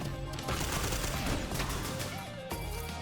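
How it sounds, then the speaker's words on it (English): Fireworks items fire in Risk of Rain Returns, a rapid crackling barrage of small bursts and pops that fills the moment, then cuts off abruptly near the end. "Just use the fireworks."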